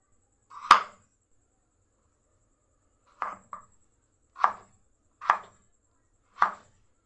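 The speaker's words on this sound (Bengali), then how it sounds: "আলু দুটোকেও আমি লম্বা লম্বা করে কেটে নেব।" A knife chops peeled potatoes into long pieces on a board in a home kitchen, five separate crisp thuds with quiet pauses between them, close and alone.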